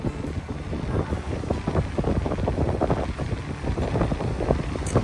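Steady wind buffets the microphone over choppy water, with waves slapping and churning close by in a continuous rough wash that never lets up.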